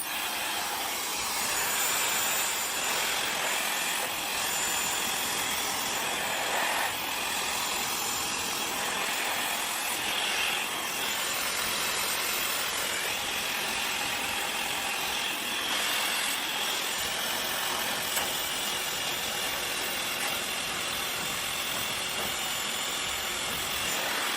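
A hair dryer fitted with a nozzle blows on hair extensions, a loud, continuous airy roar and hiss that holds steady the whole time with no talking.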